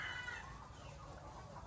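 Dekalb White layer hens cluck faintly in a layer building on a poultry farm, a soft, brief burst of fowl calls over a low background hum.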